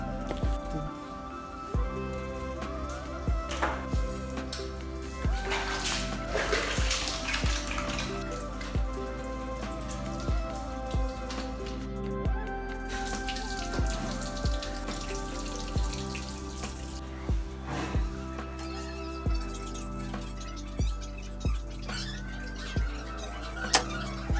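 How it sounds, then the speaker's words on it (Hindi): Running tap water splashing while someone washes hands and feet indoors, with uneven trickling and splashes, intermittent drips and light clatter, fairly quiet and close. "मैं अपन पैर हाथ धो लेता हूँ।"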